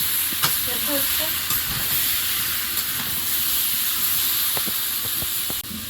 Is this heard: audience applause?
no